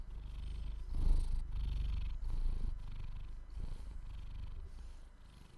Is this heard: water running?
no